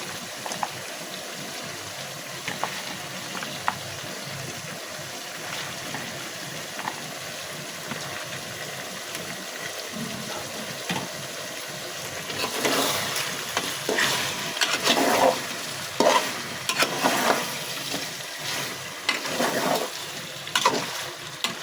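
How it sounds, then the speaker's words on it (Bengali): Chopped onions frying in a pan for a beef curry, a soft steady sizzle that swells louder in the second half as the spoon stirs and scrapes, with no talking. "এবার আমি কাটা পেঁয়াজ কুচিগুলো দিয়ে দিচ্ছি।"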